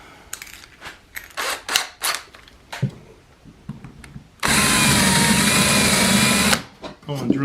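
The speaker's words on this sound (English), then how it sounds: "go ahead and drill that out with a bigger bit." A power drill bores out a hole in wood with a larger bit while building a knife stand, roaring steadily for about two seconds after a series of short taps and handling knocks, with a brief burst at the end.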